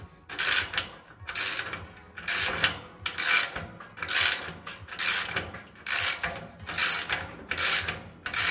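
Rhythmic ratchet clicks from a wrench tightening a nut against a lock washer while assembling an Adidas home gym multi-station, about nine close, evenly spaced bursts of ratcheting with no voices.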